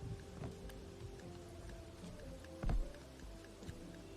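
Rain falls in the Bugsnax video game as a faint, steady hiss of drops, with one soft thud partway through and no voices.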